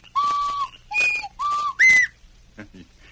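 A plugged tin whistle played by Tonto gives a short signal of four clear, sustained tones whose pitch shifts between notes, loud and close, followed by a couple of faint knocks.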